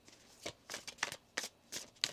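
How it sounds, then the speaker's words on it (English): A deck of tarot cards shuffled softly and close, several quick riffling bursts in an irregular rhythm separated by short pauses, quiet with no talk. "One more shuffle."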